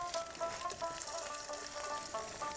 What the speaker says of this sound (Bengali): ফোড়নটাকে ভালো করে ভেজে নিয়েছি।